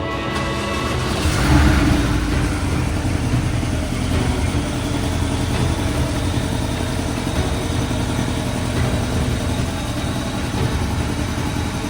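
A Porsche Cayman S engine, once wrecked and now being coaxed to drive, fires up with a brief louder burst and then settles into a steady, close rumbling idle that holds evenly to the end, with no voices.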